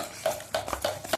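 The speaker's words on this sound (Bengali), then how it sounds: "ভালো করে মেখে নেব।" Egg, chopped onion, green chilli, coriander and spice batter mixed in a bowl produces four quick, rhythmic clinking stirs against the bowl, close and fairly quiet.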